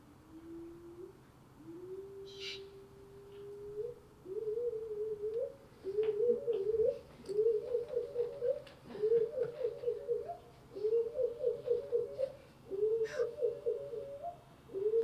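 A curlew's song slowed to quarter speed: low, hooting warbled phrases repeating in bursts, gradually becoming busier and more rhythmic, with a faint background hum.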